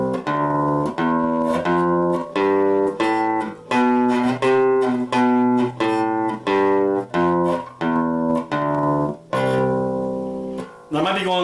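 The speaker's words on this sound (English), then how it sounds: "we would go up a scale and then down" Bass guitar playing a scale up and then back down as a string of distinct, evenly spaced plucked notes, loud and close with no talking.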